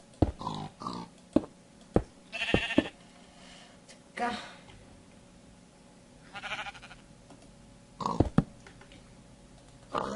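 Sheep bleats from the video game Minecraft, several short game-sound calls scattered through the stretch, moderately loud, with someone speaking now and then.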